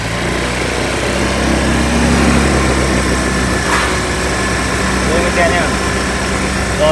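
A Honda Lead 125 scooter engine idles loudly at a raised idle speed, a steady buzzing drone that holds even and close, with someone talking over it.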